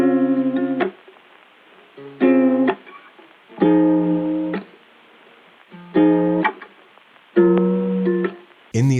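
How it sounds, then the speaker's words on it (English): Lo-fi processed ukulele played through Cymatic's Origin plug-in in a smooth R&B beat, five separate strummed chords spaced about every one and a half seconds, each ringing briefly with a band-limited, muffled tone before cutting off. "told you I was gonna put some lo-fi vibe on that ukulele, so I threw Cymatic's Origin on it"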